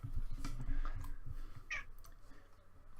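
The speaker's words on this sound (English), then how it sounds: "I'm sorry if you can hear my cat" A pet cat gives a single short, faint meow partway through, set against quiet clicking and low room noise.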